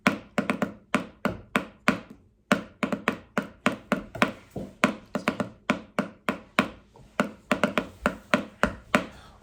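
Pencils tapped on a hard wooden surface like battle drums, giving a steady, fast beat of sharp, close knocks with a couple of short pauses and no talking.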